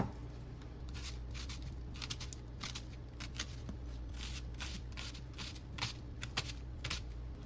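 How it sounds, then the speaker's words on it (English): An onion being peeled and cut by hand produces quiet, crisp crackles and quick slicing snicks in uneven clusters, close by and faint against a low background hum, with no speech. "Now I'm going to peel and cut my onion."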